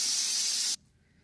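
Steam hisses steadily and loudly out of a pressure cooker holding chicken, then cuts off abruptly, leaving near silence.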